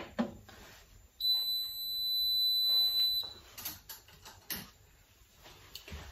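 A Guy Demarle Borealia ice cream maker emits a long, steady, high electronic beep as it is switched on, followed by quieter clicks and handling knocks in a calm kitchen.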